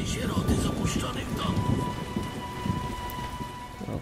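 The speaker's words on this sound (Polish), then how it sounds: "Oczywiście musi padać deszcz. Burza." Rain and a thunderstorm in The Witcher Enhanced Edition video game: steady downpour with low rumbling thunder and some game sounds, continuous and moderately loud.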